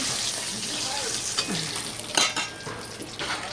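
Spice paste hits a hot pan and sizzles steadily, with a few scrapes and clinks of a stirring spoon against the metal and no talking.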